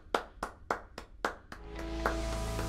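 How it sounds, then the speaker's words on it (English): Five evenly spaced, crisp single claps ring out, then a brighter burst of sound enters with sustained musical tones underneath. "Give yourselves a round of applause for the work you did today"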